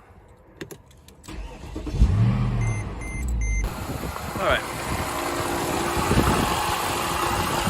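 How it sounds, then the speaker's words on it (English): A Mercedes-Benz M156 V8 with a lean-running fault cranks and catches, then settles into a loud, rumbling idle that runs steadily to the end, with a brief spoken word near the start. "So I'm going to turn the engine on"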